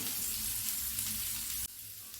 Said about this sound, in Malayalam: ഇനി നമുക്ക് ലോ ഫ്ലെയിമിൽ അടച്ചു വെക്കാതെ തുറന്നു വെച്ച് തന്നെ നമുക്കിത് വേവിച്ചെടുക്കണം